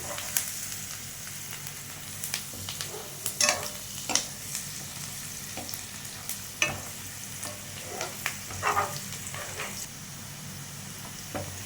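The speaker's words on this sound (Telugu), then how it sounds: "ఎర్రగడ్డలు చక్కగా ఎర్రగా వేగిపోయాయి." Chopped onions frying in hot oil for a fish curry, a continuous sizzle broken by frequent scraping and stirring clatters from a spatula, close and fairly loud.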